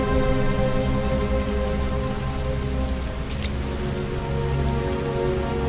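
Loud, heavy rain in the video game Heavy Rain pours steadily with a dense patter, constant and close, no voices.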